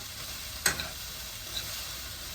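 Fried rice stirred in a hot pan, a steady broadband sizzle of frying with a sharp scrape of the utensil and a couple of lighter clinks, close and continuous.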